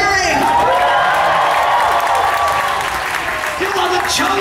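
A large crowd at Star Wars Weekends 2014 cheers and applauds continuously, with whoops and shouts over loud, dense clapping that carries on throughout.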